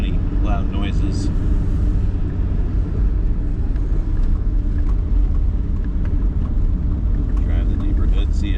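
A lowered Volkswagen Vanagon drives through a neighborhood, its engine and road rumble a constant loud low drone heard from inside the cabin, with faint rattles and a voice over it.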